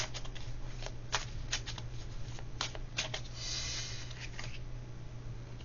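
Small tarot cards are shuffled by hand in a series of quick, soft riffling bursts, close and fairly quiet over a low steady hum.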